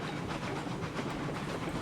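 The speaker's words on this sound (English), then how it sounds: "There is the circus train." A train runs steadily in RailRoads Online, its wheels clattering and its engine hissing in an even, loud rumble with no voices over it.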